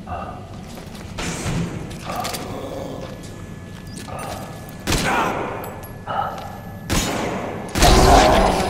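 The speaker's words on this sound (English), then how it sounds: "Shooting your own men." Gunfire crackles in several loud bursts and separate shots against a rumbling background, with some sharp thuds in between and voices briefly heard.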